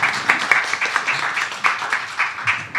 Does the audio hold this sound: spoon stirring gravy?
no